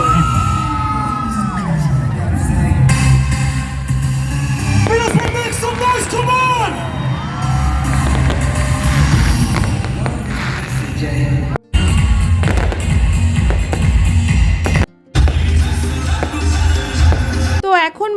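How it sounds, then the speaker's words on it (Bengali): Fireworks bursting at a Diwali celebration in Middlesbrough, loud repeated bangs and crackles over a cheering crowd with music, with people talking nearby throughout. "এখন প্রচুর এখানে বাজি ফাটবে"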